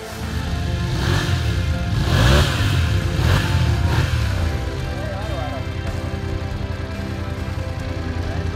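A motorcycle engine revs on a Morocco adventure rally, several rising-and-falling revs in the first half over a steady loud drone, with voices talking throughout.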